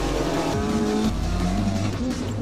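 Rally car at a super special stage of the Rally of Coimbatore at the PSG Ganga Naidu Charitable Trust grounds, engine roaring loud and steady with shifting pitch and a hint of tyre squeal, no voices.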